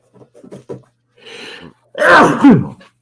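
A single sharp sneeze bursts out near the end, preceded by a few soft breaths and a brief hiss.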